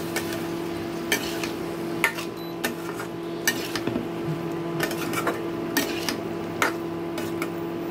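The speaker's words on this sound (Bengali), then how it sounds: "এখন এই টক দইটাকে খুব ভালো করে মিশিয়ে দিব মশলার সাথে।" Sour yogurt stirred into a spice mix in a pan over low heat, with a steady run of spoon taps and scrapes against the metal over a soft continuous sizzle, close and without talk.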